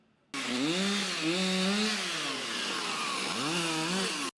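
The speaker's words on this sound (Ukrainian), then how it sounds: "працівники Запоріжремсервісу вимірюють та вирізують ОСБ плити" A power saw cuts OSB boards used to board up damaged building windows in Zaporizhzhia, the motor whining and rising and falling in pitch as it bites through the sheet, loud and close for about four seconds.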